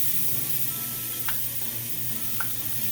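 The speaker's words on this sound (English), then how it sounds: "we've turned it down to low, medium low, and we're throwing in some garlic" Garlic frying in olive oil in a pan over medium-low heat, a steady soft hiss with a couple of faint brief crackles, close by and alone.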